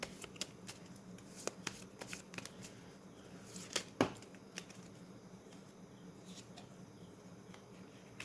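Tarot cards shuffled before a reading make quiet, close, papery riffles and scattered light clicks in irregular bursts, with one sharper cluster near the middle, over a faint background hum.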